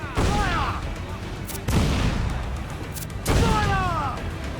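A ship's cannon broadside in the video game Assassin's Creed Black Flag booms three times, each heavy blast spaced about a second and a half apart and rolling into a long rumble, with shouting voices and sea noise beneath.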